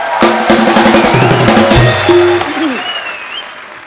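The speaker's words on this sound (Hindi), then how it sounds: "जोरदार तालियां" Loud applause from a comedy talk show studio audience fills the clip, with music playing underneath and a brief swell partway through before it gradually tapers.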